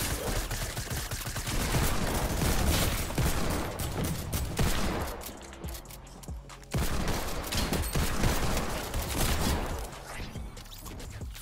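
Rapid shotgun blasts and bursts of gunfire from a first-person shooter game in its eighth season, loud, dense and nearly continuous with brief lulls, with no talking.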